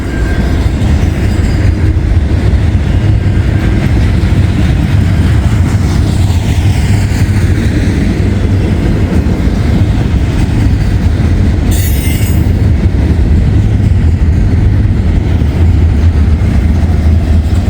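A long freight train, I-141, rolls steadily past on the railway with a continuous loud rumble, wheels squealing and a brief sharp screech partway through, no voices over it.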